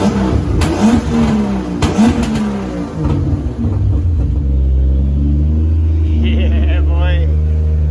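A turbocharged BMW E36 328i engine blips and revs nearby, with sharp throttle rises and falls over a deep rumble, then settles to a steady idle while a person talks over the first part.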